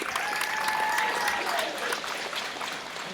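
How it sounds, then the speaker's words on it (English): A crowd at a grappling tournament applauds a fighter after a lightweight title match, with clapping and some cheering heard at moderate distance and softly. A voice with rising and falling tones carries over the applause, and it tapers toward the end. "Let's give a round of applause to Butch."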